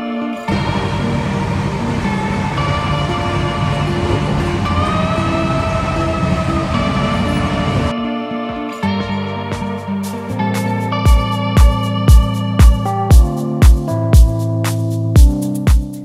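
Rajdhani Express passenger train running through Mathura station without stopping: steady loud rumble and rail noise heard from inside, then a rapid series of rhythmic clacks as the wheels cross rail joints and points.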